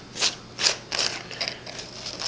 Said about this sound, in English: you access it by unscrewing the entire rear section of the saber